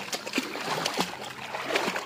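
Seawater at a Calatagan, Batangas beach resort splashes and sloshes close by in irregular bursts, as if stirred by someone wading.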